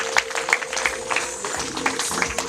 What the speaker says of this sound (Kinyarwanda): turabaha amashyi n'impundu